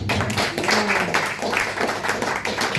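Audience applause in a lounge bar during a magic and hypnosis show, a steady dense wash of clapping filling the whole stretch at even loudness with faint murmuring beneath.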